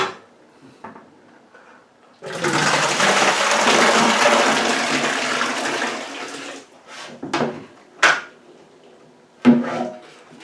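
Bananas and brown sugar poured into a sanitized fermentation bucket for making banana rum: a loud, sustained rushing pour lasting several seconds, followed by scattered knocks and clatters of handling.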